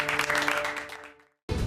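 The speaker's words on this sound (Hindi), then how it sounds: "हमें इनके जज्बे के लिए ना तालियां बजानी चाहिए" Audience clapping for a moment in a TV drama scene, a dense burst with a hum underneath that fades out, drops briefly to silence, then cuts back in loud.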